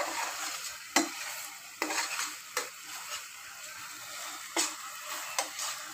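Small river fish stirred into a frying spice paste with onion in a pan, a soft sizzle broken by sharp clinks and scrapes of a spoon against the pot every second or so, close and without voices.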